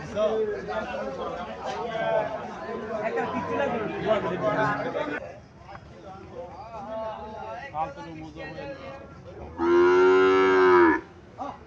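A Sahiwal calf gives a loud, drawn-out moo near the end, following a stretch of people chattering in the background at a cattle sale.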